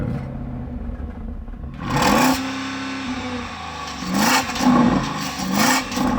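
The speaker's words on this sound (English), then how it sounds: "let's hear the Porsche Cayenne Turbo GT" Porsche Cayenne Turbo GT engine idling, then revved hard several times against a soft limiter, with loud rising and falling bursts of engine roar close by and no talking.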